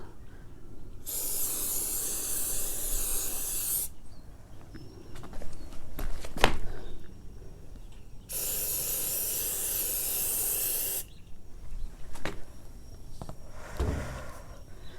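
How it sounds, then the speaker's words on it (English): Two long bursts of leather protector aerosol spraying onto a Louis Vuitton vachetta leather bag, each about three seconds, separated by quiet pauses with a few light handling clicks and taps. "So I'm going to go ahead and spray the bottom too."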